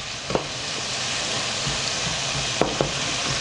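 Ox tripe sizzling with onions in a pan for Filipino callos, a steady, dense frying hiss close up, with a few sharp taps of a utensil against the pan.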